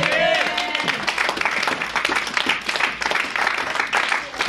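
A church congregation bursts into applause and cheering to acclaim the word of God, a dense, lively clapping that carries on steadily for a few seconds with crowd voices mixed in.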